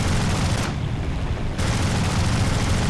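Rocket strike fired from a Russian aircraft in War Thunder, a dense, continuous rumbling barrage of blasts and booms that briefly drops out mid-clip before resuming at full force.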